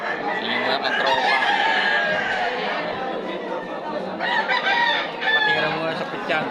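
A fighting rooster crows over a busy yard of clucking chickens, with people chatting in the background.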